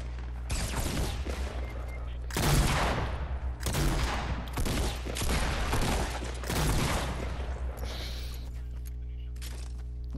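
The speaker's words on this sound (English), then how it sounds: "The shotgun is the only thing that did damage." Shotgun fire in a Fortnite Battle Royale duos match: several loud, booming in-game blasts come in quick clusters over a steady game-audio background.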